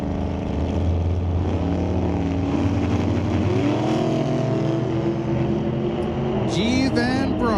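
A gray dragster launches from the starting line at an NHRA Northwest National Open Series drag race at Mission Raceway, with a loud, continuous engine roar that climbs in pitch as it pulls away.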